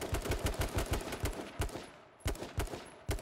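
Rapid automatic gunfire in a video game, a loud close burst of evenly spaced shots followed by shorter volleys separated by brief pauses, with no talking.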